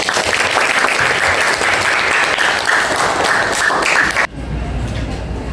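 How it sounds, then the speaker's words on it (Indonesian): A classroom full of students applauding a student group loudly and continuously for several seconds, then the clapping cuts off abruptly, leaving quieter background noise. "Oke, give applause for kelompok 5."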